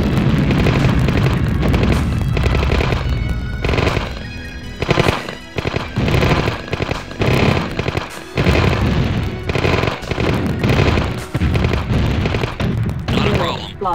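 Heavy explosions and rapid gunfire roar almost without a break through a video game battle with airstrikes, the booms and bursts loud and dense from start to finish.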